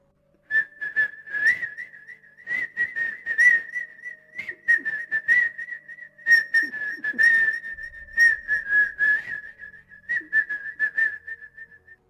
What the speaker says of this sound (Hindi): कोई सीटी बजा रहा था